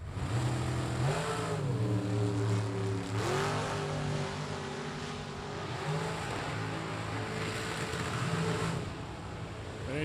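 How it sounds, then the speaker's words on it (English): A big block Chevy 632 dragster engine at a drag racing shootout holds a loud, sustained, steady roar, with its pitch bending slightly at moments. "The Folk Race Cars 632 powered big block Chevy dragster."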